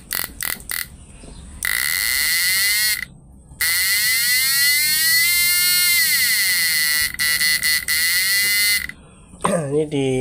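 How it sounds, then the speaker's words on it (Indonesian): A buzzer on the air-core inductor coil of a 4-FET PDC shock device gives off loud, harsh electric buzzing in long bursts, broken by short gaps and clicks, while a voice talks over it. "di gulungan induktor inti udara ini udah ada buzzernya ya, jadi suaranya kencang ya guys"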